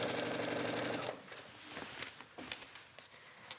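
A sewing machine stitches a waistband on an A-line skirt in a steady, fast whir for about a second, then stops, leaving soft handling and fabric clicks.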